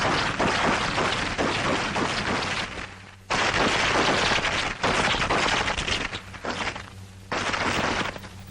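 Rapid pistol fire in a 1942 close combat firing demonstration: loud, close bursts of quick successive shots ring out in several strings, separated by brief pauses, with no talking.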